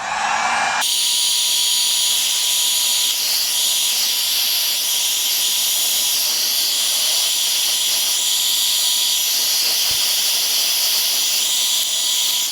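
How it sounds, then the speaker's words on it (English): A steady, loud whirring hiss of a heat gun shrinking heat shrink wrap while fitting Kawasaki Ninja ZX10R mirrors to a ZX6R blows continuously throughout, with a constant high-pitched airflow drone close by. "I'm going to go ahead with the heat gun and shrink it up"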